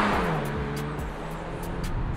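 Engine noise of a car under full throttle heard from inside, a broad, steady roar with a falling low tone and faint ticking, loud and continuous for a couple of seconds.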